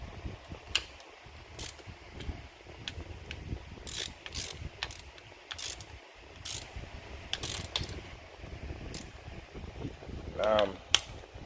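A hand ratchet clicks in repeated quick bursts while tightening bolts during assembly of a 1970 Dodge Charger 318 V8, with close metallic ticking and a faint voice in the background.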